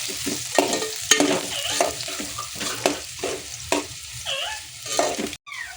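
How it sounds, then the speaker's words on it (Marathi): Sliced onion fries in hot oil until golden, with a steady sizzle and repeated scraping stirs close up. "याचा रंग थोडा गोल्डन होईपर्यंत आपण याला चांगल्यापैकी भाजून घेऊया."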